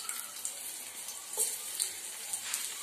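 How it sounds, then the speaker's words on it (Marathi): Okra frying in hot oil in a frying pan, a steady close sizzle and crackle with a few sharper pops, continuous and fairly quiet, with no voices. "भेंडी मी फ्राय पॅनवर टाकली फ्राय करायला"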